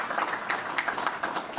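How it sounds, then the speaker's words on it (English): An audience at a talk session applauds, a faint, fairly distant patter of many hands clapping continuously for a short moment. "So please give yourselves a round of applause."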